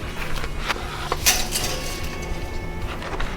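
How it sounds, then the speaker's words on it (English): Dry fettuccine noodles go into a big pot of boiling salted water with a sharp clatter against the metal pot, then a few lighter knocks and a steady simmering hiss. "I'm going to add my fettuccine."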